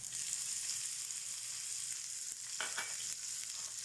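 Garlic and green chili dropped into hot oil in a pan: a faint, steady hiss of frying with a few short stirring scrapes near the end, no voices.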